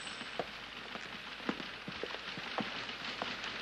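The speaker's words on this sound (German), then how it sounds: "Hat wieder zu regnen angefangen. Heftig, aber es regnet." Heavy rain falls in a steady hiss, with occasional individual drops striking a surface close by, the wash of sound even and continuous throughout.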